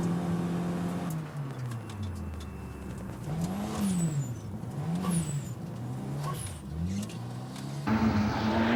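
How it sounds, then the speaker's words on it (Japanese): A car lapping Tsukuba circuit, engine revving up and down through gear changes and corners, with tire squeals and a closer steady rev at the end. "The car runs smoothly"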